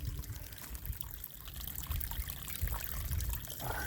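Water trickles and pours in and out of holes in sandstone on wooded rural land, a steady close gurgling flow with low rumbling wind or handling noise underneath.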